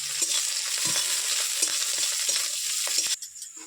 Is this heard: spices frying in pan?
yes